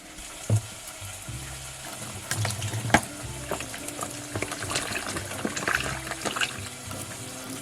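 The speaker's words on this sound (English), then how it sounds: "afterwards you're going to wash them with water" Mushrooms are washed with water in a home kitchen: splashing and rinsing, intermittent clunks and wet handling noises up close, no one speaking.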